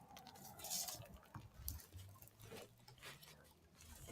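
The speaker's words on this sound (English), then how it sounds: "it's actually hailing" Hail falls outdoors in an irregular patter of small hits and ticks, faint and scattered, with occasional louder impacts over a low rumbling background.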